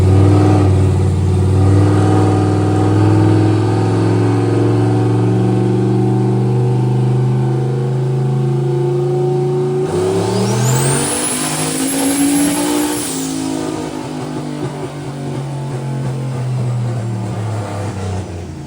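Turbocharged car engine held through a loud, sustained power pull, a steady droning rev that climbs sharply midway with a whining turbo tone before settling, no talk over it.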